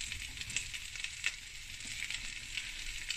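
Paprika and other spices sizzle in hot oil in a pan with garlic and ginger for butter chicken curry, a steady close crackling fry with small pops.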